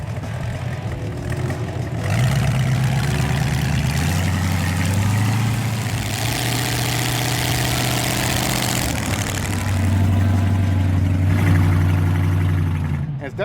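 A fresh motor in a classic Pontiac GTO runs steadily at low, deep idle, close and loud throughout, with the pitch shifting slightly a few times while people talk over it.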